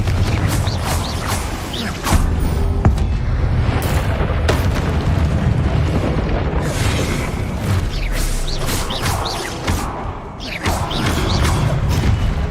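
Confringo blasting-spell explosions from the Hogwarts Legacy game, a loud, continuous stretch of booming blasts and crashing debris with rumbling and creaking underneath and sharp impacts scattered throughout.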